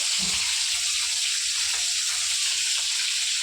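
Cauliflower and potato curry sizzles steadily in a pan, a continuous hiss of frying with no voices over it.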